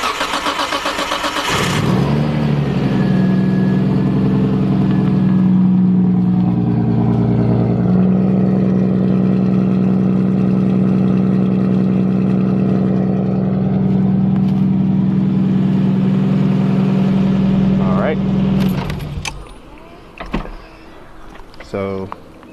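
An Isuzu D-MAX pickup's engine cranks, catches and settles into a steady loud idle with a rising rev after its exhaust was bolted back on, running for most of the stretch before cutting off abruptly.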